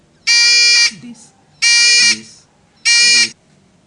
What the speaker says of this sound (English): As any obstacle comes in the path of this light, the buzzer beeps